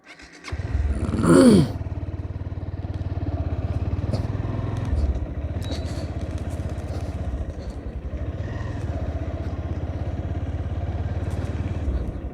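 Motorcycle ridden along a rural road in Mymensingh, a steady engine drone with wind rush throughout and a louder burst near the start.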